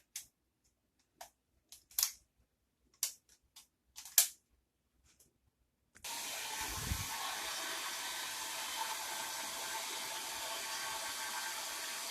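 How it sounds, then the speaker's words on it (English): A few small clicks and taps, then a hair dryer switches on and blows with a steady, constant whoosh for the remaining several seconds. "I'm just going to blow dry the spritz"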